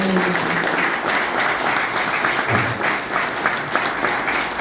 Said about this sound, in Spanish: yo pido un fuerte aplauso para estas personas que nos acompañan hoy